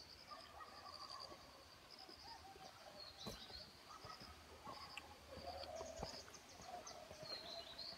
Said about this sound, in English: You can hear the sound of the river and the birds.